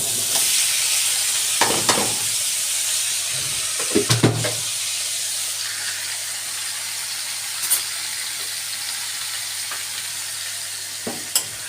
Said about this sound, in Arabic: انا حطيت الطاسه، حطيت معلقتين زيت، واحط وخرطت الكوسه اهي وهحطها عليها